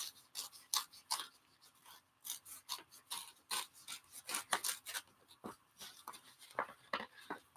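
Paper collage pieces torn by hand at an art table, a rapid series of close, dry ripping and rasping bursts that come one after another without any talking.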